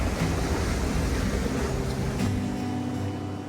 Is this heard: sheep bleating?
no